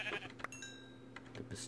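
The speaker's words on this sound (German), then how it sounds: "Oh, da ist ein Schaf." Sheep bleating in the Minecraft video game, a short bleat standing out over quiet background game sounds, with faint tonal game effects nearby.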